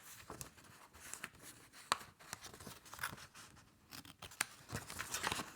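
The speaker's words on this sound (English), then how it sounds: "we're going to cut out this little aperture, poking a hole through with these tiny scissors" Tiny scissors snipping an aperture into food packaging, a quiet close series of irregular crisp clicks and cuts with soft crinkling between them, no voices.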